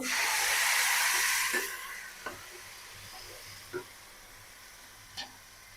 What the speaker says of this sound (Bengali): দুধ দিয়ে দেব